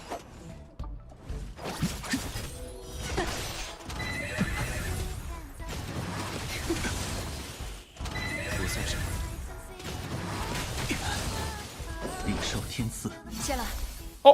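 A horse in a video game whinnies and neighs amid clip-clopping hooves and game effects, with someone talking over it throughout.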